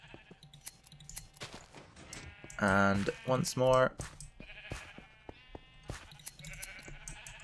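Sheep bleat loudly several times while being sheared in Minecraft, between soft clicks and keyboard taps, and someone speaks briefly.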